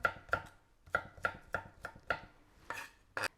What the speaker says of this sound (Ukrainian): Вуха нарізаю саме дрібніше, щоб вони такі кусками великими не попадались